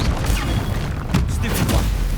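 Expelliarmus disarming spell cast in the Hogwarts Legacy video game, a dense booming magical blast with thudding low rumble and crackling bursts, loud and continuous over about two seconds.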